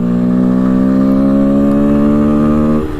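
Herald Brat 125 motorcycle engine and exhaust while riding, a steady loud mid-pitched drone that rises slightly in pitch, then drops off with a gear change near the end.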